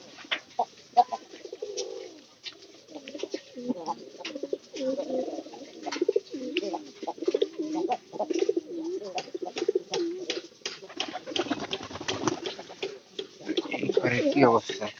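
Pigeons in a loft coo in repeated soft, warbling phrases nearby, continuing under a man's close-up talk.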